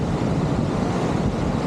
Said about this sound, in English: They're Class 6 rapids, which are the fastest and most dangerous rapids in all of North America.